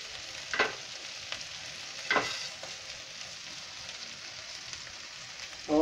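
Potato pitha cooks in a little oil on a tawa, a steady low sizzle close by with a few sharp scraping or spreading sounds at intervals.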